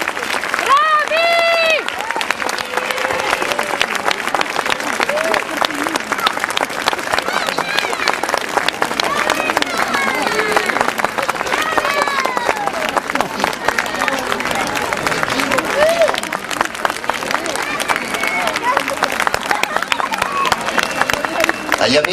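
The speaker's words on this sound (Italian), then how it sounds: "Questo è il vostro applauso" Audience at a school living nativity play at an Italian comprehensive institute applauds at length, a long, steady spell of clapping mixed with crowd chatter and children's voices.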